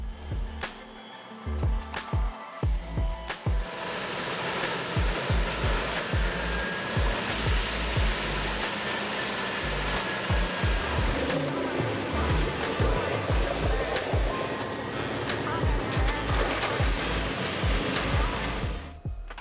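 A Cat C27 diesel-powered RXL disc wood chipper, 1050 horsepower, drives on loudly while logs and whole trees are fed in, a heavy continuous roar marked by repeated thumping knocks and grinding crunches.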